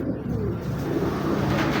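A red-eyed male racing pigeon coos nearby in a low, throaty, rolling rhythm that runs continuously through the short moment.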